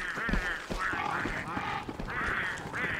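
A flock of Pengull birds in the video game Don't Starve squawks and honks repeatedly at close range, rapid nasal calls overlapping in a constant noisy chorus.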